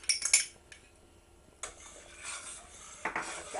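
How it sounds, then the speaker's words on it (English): A metal spoon stirs curry paste through a pot of vegetable and pearl barley soup, giving light clinks and scrapes against the pan with short bursts of rubbing in between. "I've got a really good stir so that it spreads out through the soup"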